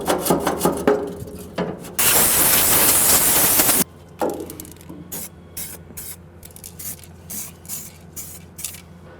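Primer is sprayed onto a welded battery box for a 914 in one loud, hissing burst of about two seconds, with scattered close rubbing and handling noises before and after.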